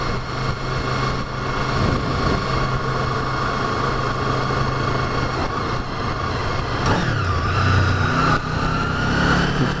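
A Honda VFR800Fi motorcycle engine runs close by at a steady, loud idle, then is blipped near the end with a quick rise and fall in pitch before settling back.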